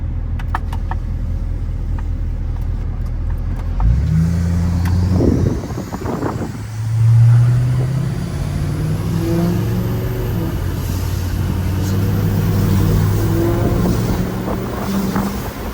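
A Chevrolet L5P Duramax diesel pickup, fitted with a new turbo and checked for boost leaks, idles with a low rumble and then accelerates, its engine note rising and falling through several revs under steady wind noise.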